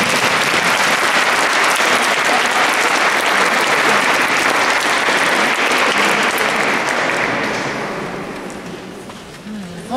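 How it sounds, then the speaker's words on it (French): A conference audience gives loud, sustained applause for a speaker on stage, a dense continuous clapping that holds steady and then gradually fades out toward the end. "Applaudissez la chocolatière"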